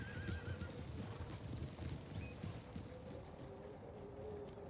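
Horses of mounted archers in a snowy Total War Shogun 2 battle, with whinnies and neighs over a dense bed of hoofbeats and clashing battle noise, steady and fairly loud throughout.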